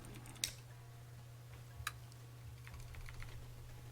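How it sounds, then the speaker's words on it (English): Keys tap on a computer keyboard in a quiet room during a LEGO pirate build race, with two sharper clicks early on and lighter scattered keystrokes over a steady low hum. "I hear some typing."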